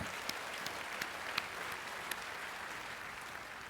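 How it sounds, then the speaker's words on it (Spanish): A church congregation applauds during a sermon, a quiet, distant wash of steady clapping with a few sharper individual claps standing out. "Démosle un fuerte aplauso"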